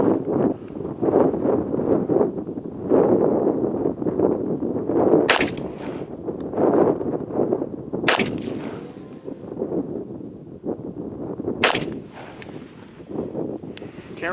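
Remington R1 1911 pistol fired at paper targets outdoors: a few sharp, loud isolated shots spaced seconds apart over steady wind and low rumble, with talk running underneath.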